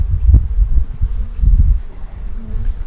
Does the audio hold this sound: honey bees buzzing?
yes